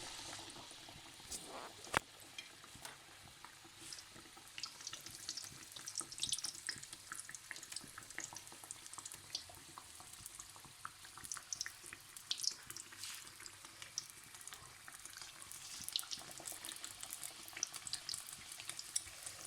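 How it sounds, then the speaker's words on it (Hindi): Pakoras deep-frying in a pan of hot oil over medium heat in a home kitchen, a steady crackling hiss with scattered sharp pops and bubbling throughout, fairly close and moderately loud, no voices. "पकोड़े तले जा रहे हैं"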